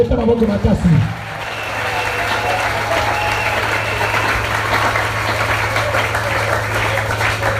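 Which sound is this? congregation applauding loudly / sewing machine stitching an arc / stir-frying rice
congregation applauding loudly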